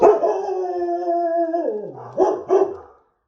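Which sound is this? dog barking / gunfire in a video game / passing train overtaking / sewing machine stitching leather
dog barking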